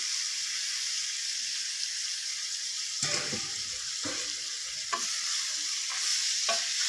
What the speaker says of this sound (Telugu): మనం ఆల్రెడీ బోటీ స్ట్రెయిన్ చేసి పెట్టుకున్నాం కదా, అది వేసి ఇందులో సాటే చేస్తాం